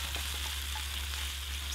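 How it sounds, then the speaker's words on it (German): Garlic and onions sauté in a pan over an outdoor fire, giving a steady, close crackling sizzle with small pops and no talking. "Kann der Knoblauch und die Zwiebeln jetzt schon mal andünsten."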